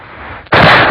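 A single loud gunshot-like blast cracks in halfway through after a softer, hissing lead-in, then rings out broadly and strongly to the end.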